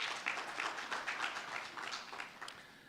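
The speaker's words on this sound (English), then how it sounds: "Let's give her a big round of applause" Round of applause from a room of attendees at a PFMA workshop, steady moderate clapping across the whole stretch with no voice over it.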